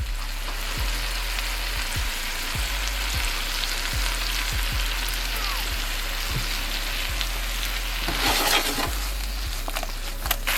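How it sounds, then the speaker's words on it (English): Minced garlic, about two cloves, sizzles in a frying pan with a constant crackling hiss over a low repeating background hum, loud and close throughout. "Now we're gonna take some garlic that I minced up. I'm gonna drop that in, about 2 cloves."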